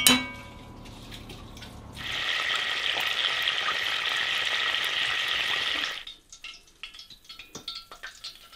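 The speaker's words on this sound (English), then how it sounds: "we are frying these in moose tallow or moose fat" Donut dough drops into hot moose tallow and a steady, strong sizzle of frying follows for several seconds, then fades to quieter crackles and bubbling.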